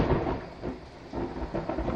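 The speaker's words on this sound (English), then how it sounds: "sorry, thunder outside." Thunder rumbling outside, a low, continuous rolling growl at moderate distance, muffled and sustained, with no speech over it.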